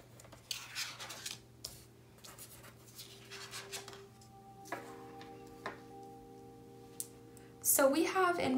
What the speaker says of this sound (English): let's shuffle again one more time